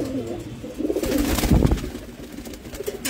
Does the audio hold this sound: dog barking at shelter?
no